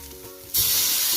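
Spice masala for a Kerala fish pollichathu frying in a pan: quiet at first, then a sudden loud, bright sizzle bursts in and holds steady as the mixture is stirred, no talking.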